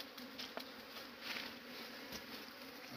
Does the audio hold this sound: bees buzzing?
yes